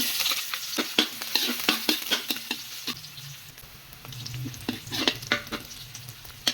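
Egg noodle ingredients sizzling in hot oil in a pan while being stirred, with irregular sharp scraping taps over a soft frying hiss, close by and moderately loud.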